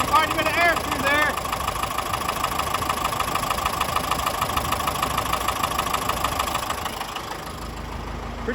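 A Deutz-Allis 7085 tractor's air-cooled Deutz diesel runs steadily at idle, a close, constant mechanical drone with cooling-fan rush, while a voice speaks over it near the start.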